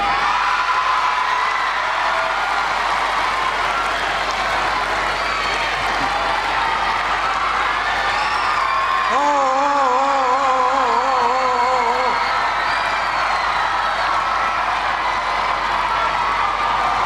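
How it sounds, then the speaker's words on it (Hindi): An audience of schoolchildren claps and cheers in a continuous, loud roar, with a high shouted whoop rising above the applause partway through. "मैं एक बात बोलूँगा उसके बाद सबको ताली बजानी पड़ेगी"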